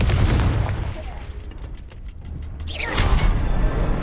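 The Confringo spell fires in Hogwarts Legacy with a loud mechanical crackle, then a bright, whooshing burst of energy near the end.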